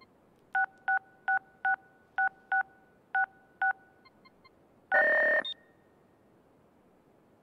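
Telephone keypad tones in the video game Silent Hill Downpour: eight crisp dialing beeps in an uneven rhythm, then a few faint blips and a louder, brief buzzing ring-like burst. They sound close and clear, with no voices.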